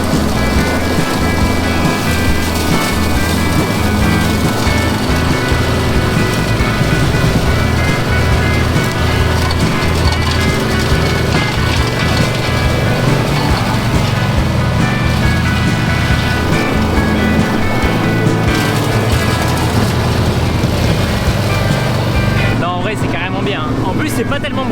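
A New Holland T7.300 tractor runs a mower in a farm field, a loud steady engine drone with constant broadband roar throughout and no pause.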